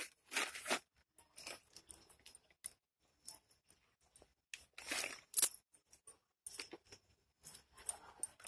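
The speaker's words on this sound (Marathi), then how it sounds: "आणि पेरू आपल्याला आता कापून घ्यायचा आहे।" A knife cuts through a large guava in a series of short, crisp crunches and snaps spread irregularly over the stretch, close and fairly quiet, with silent gaps between the strokes.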